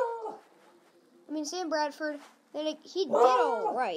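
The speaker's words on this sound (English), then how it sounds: "guys, sorry about my dog." A pet dog named Wrigley whimpers and yips in high, wavering whines, then breaks into a louder burst of barking and whining, close by in a room, with someone talking just before.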